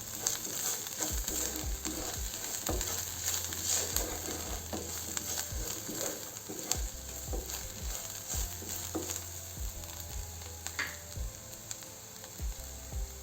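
Spices stirred in a hot pan with oil while making aloo bonda, salt and dried fenugreek leaves mixed in: steady sizzling and frying hiss with repeated soft scraping strokes of a spoon against the pan, close and continuous, no talking.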